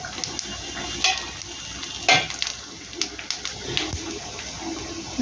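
Whole garam masala spices, bay leaf, dried red chillies and cumin hitting hot oil in a pan for mug dal with fish head, a steady close sizzle with scattered crackles and a few louder pops, no talking.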